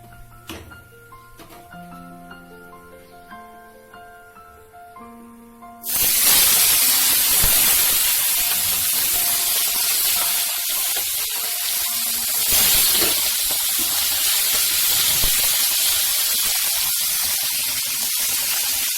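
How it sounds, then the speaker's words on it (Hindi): Small fish frying in hot oil in a kitchen, a loud broad hissing sizzle that starts abruptly after a soft melodic music passage and carries on steadily, close with no talking. "ये देखिए हमने सारे फिश को फ्राई कर लिया है।"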